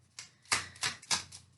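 Tarot cards being shuffled during a reading, a few quick riffling bursts in a row, fairly close and soft, with no voice over them.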